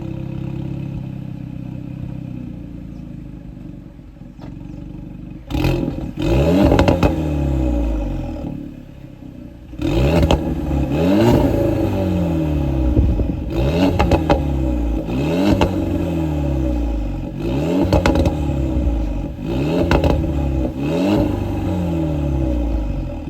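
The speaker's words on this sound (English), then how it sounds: "So I'm gonna currently put it on sport and rev the car" A car engine in sport mode is revved repeatedly close by after a quiet idle, with about six loud, sharp climbs and falls in pitch spaced a few seconds apart.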